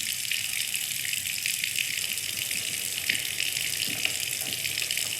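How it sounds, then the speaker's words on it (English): Water gushes and churns continuously as a basement floods in the video game Scarlet Hollow, a steady close rushing pour with a few faint splashes and no voices. "Hey, the basement's flooding."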